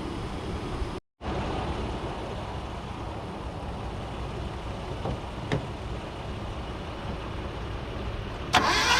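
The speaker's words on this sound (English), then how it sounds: "I was turning over fine with the spark plugs out." A Dodge Ram 50 truck engine with its spark plugs removed cranks over steadily without catching, a continuous rhythmic churning of the starter with a brief cut partway and a click near the end.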